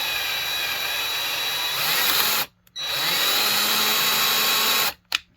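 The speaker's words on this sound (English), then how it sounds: "I'm doing this with a drill because we are just going through steel" An electric drill bores through steel during a Homelite SXL-130 chainsaw ignition swap, giving a loud, steady high-pitched whine that cuts out briefly twice, near and alone.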